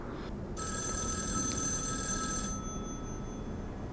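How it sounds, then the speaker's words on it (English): A telephone bell rings in a 1974 horror film, Black Christmas: a steady, bright electric ring sustained for about two seconds and then cut off, fairly faint beneath a low background hum. "Go answer the phone, guy."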